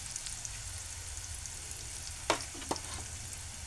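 Chopped tomato fries and sizzles in a pan for a breakfast dish, a steady close hiss with a couple of brief stirring scrapes and no talk.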